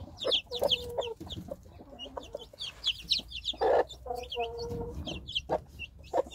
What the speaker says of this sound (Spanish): Acá está la gallina nerviosa.